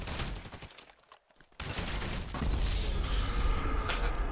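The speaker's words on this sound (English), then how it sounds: "You trying to shoot through the wall?" Gunfire in GTA 5 bursts out as a dense, noisy clatter of rapid shots, briefly dropping out before resuming loud and continuous.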